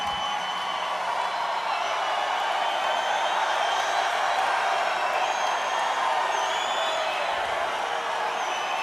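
Crowd noise at a Donald Trump campaign rally in Dimondale, Michigan, a large indoor audience producing a continuous roar of cheering and whooping, dense and even from start to finish, with no clear voice on top.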